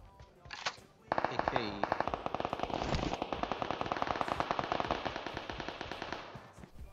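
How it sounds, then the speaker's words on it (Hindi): Rapid automatic gunfire in PUBG Mobile rattles in sustained bursts, loud and close, with a few scattered shots before the main volley. "अब उधर गोलियां चल रही हैं धक्का पेल करके"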